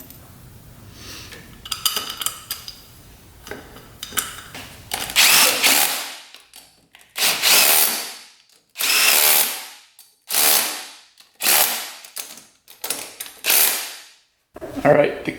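A power tool runs nut after nut down on a quad's engine valve cover, about eight loud separate bursts of whirring and ratcheting with short pauses, close up, after some quieter handling clatter at the start.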